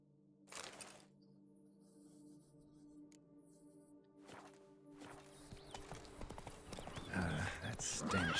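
Roach the horse galloping in The Witcher 3, a dull clip-clop of hooves that starts faint and builds into loud, dense running with a whinny near the end.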